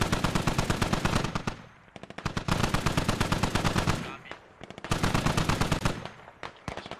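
DShK heavy machine gun firing in a war video game, long rapid bursts of loud automatic fire broken by short pauses, with scattered single shots between bursts.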